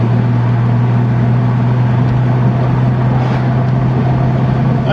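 A 1982 BMW 323i E21 Turbo Schnitzer engine runs steadily at idle, a constant low droning hum with a rough, slightly uneven texture and no pauses, close and fairly loud.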